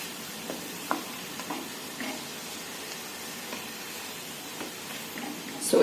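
Egg fried rice with scrambled eggs being stirred in a hot pan, a soft steady sizzle with light scraping strokes from the spatula, close and fairly quiet, no voices.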